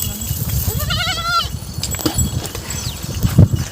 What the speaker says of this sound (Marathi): आपल्या शेळ्या आता शेतात आलेल्या आहे